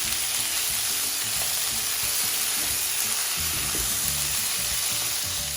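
Onions and tomatoes sauté in a pan, giving a steady, even sizzle and frying hiss that runs unbroken throughout, with faint stirring underneath and no voices.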